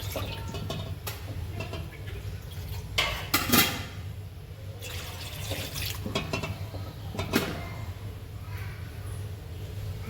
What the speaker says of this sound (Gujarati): આપણે 2 ગિલાસ પાણી મેળવીશું।